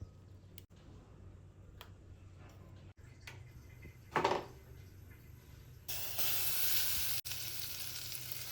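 Butter simmers down into ghee in a pan with a faint, low bubbling sizzle that swells into a louder, steady broadband hiss for the last few seconds, punctuated by a brief scrape midway.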